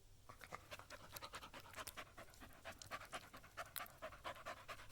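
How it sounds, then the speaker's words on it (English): A puppy panting, quick rhythmic breaths repeating steadily and close but faint, with no other sound around them. "A puppy."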